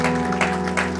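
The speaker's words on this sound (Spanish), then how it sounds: "Un fuerte aplauso para el grupo de alabanza" A church congregation claps for the worship group in a brief burst of applause, dense and steady, mixed with a sustained musical tone in the background.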